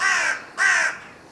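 Two loud, harsh crow caws close by outdoors, evenly spaced with a short gap between them, then quiet.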